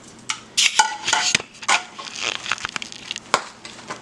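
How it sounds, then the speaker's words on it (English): A spoon stirs beaten egg through cooked macaroni noodles in a metal pot for mac and cheese, with close, loud scraping clinks and wet squelching in uneven bursts. "now that we have added our egg into the noodles, I'm going to stir that"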